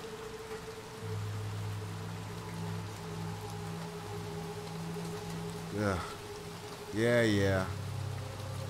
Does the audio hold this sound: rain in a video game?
yes